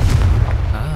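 A Confringo blasting spell goes off in Hogwarts Legacy, a short heavy boom with a deep low rumble lasting about a second, loud and close.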